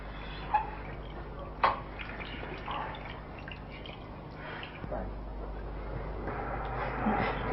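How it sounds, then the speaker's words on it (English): Water being poured into a vessel during a Diwali puja, with scattered drips and small splashes, a brief sharp plop near the start and a quiet trickle over a murmur of room noise and faint voices. "pour some water"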